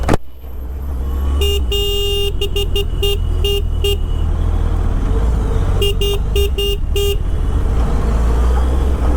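Dense road traffic with idling engines and a steady roadway rumble, cut by repeated bursts of rapid car horn honking, several short toots in quick clusters, close by.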